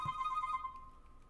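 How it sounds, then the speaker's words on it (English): A phone rings with an incoming call during a game development livestream, a short, steady electronic ring pattern in the opening half that then fades, heard on its own without talk. "I'm getting a phone call"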